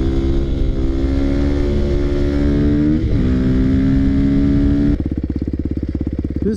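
A Yamaha WR450 motorcycle engine held at a loud, steady high rev during a wheelie, dipping briefly and climbing again, then dropping to a lower, pulsing throttle near the end, close and continuous.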